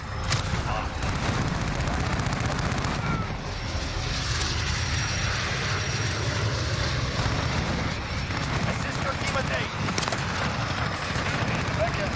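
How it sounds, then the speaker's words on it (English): UAV aircraft passing overhead in the video game Call of Duty: Modern Warfare, a loud continuous engine roar throughout, mixed with bursts of gunfire and game effects, with voices heard over it. "UAV is ready for flyover."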